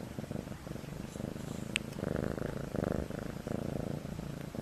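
A cat purrs steadily close to the microphone, a soft continuous low rumble with a rhythmic pulse and no voices.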